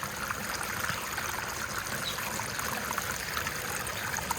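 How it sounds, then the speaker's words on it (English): Water rushes steadily through a hobby miner's pressure-test sluice box, a continuous close trickling and splashing flow with no talk over it. "Kick up the water flow here a little bit."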